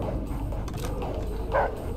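A guard dog in the stealth video game Splinter Cell, in a presidential palace in Tbilisi, Georgia, gives a single short bark near the end over a low game background rumble.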